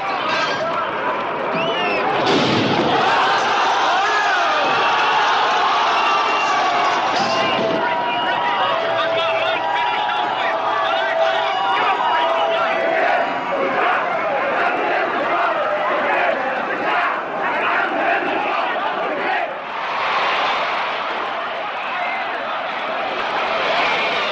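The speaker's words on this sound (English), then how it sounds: "new reports of outraged crowds demanding action" Outraged crowds demanding action roar as one loud, continuous mass of shouting and yelling, with occasional surges and a voice speaking over it.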